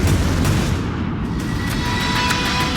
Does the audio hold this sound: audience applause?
no